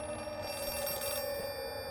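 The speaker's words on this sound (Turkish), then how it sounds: "Cevap veriyorum telefona." A telephone in the Outlast 2 horror video game rings steadily, with a continuous bright electronic bell tone and no talk over it.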